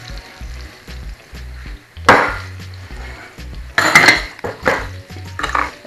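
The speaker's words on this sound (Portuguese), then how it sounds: "eu estou aqui virando as batatas e fritando de todos os lados em fogo bem alto" Potatoes turned in a pan over high heat, with sharp metal scrapes and clatters of a utensil against the pan breaking through a quieter sizzling background, several distinct bursts spaced irregularly.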